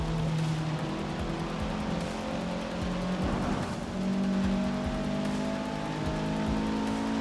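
Race cars in the video game Forza 6 roar around a circuit, with steady loud engine drone, gear-shift pitch changes and brief tire noise throughout.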